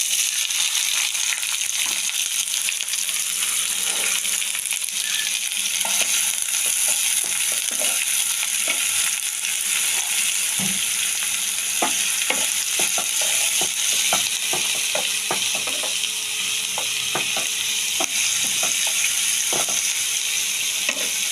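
Onions frying in oil with a little sugar, a steady loud sizzle throughout with scattered clicks and scrapes of a spatula against the pan, close up and with no voices.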